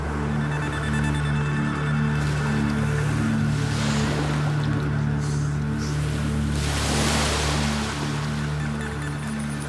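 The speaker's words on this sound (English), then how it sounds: "Amazingly, the Ark survives the giant wave impact." Large waves striking a weighted model of Noah's Ark in a wave tank, a continuous rushing wash with a steady low mechanical hum underneath and louder surges around the middle, no talking.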